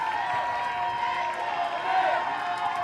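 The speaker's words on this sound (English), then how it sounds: "the crowd is cheering on Arcadia" Spectators at a girls' varsity water polo league final keep up a steady, dense roar of cheering and clapping that goes on throughout, with voices blended into the din.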